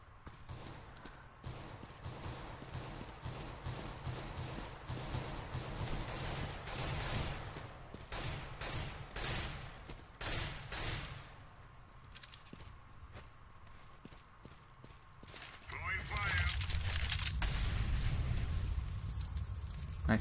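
Bursts of gunfire in a CS:GO match, sharp shots scattered among footsteps at a moderate distance, with a louder cluster of rapid shots near the end.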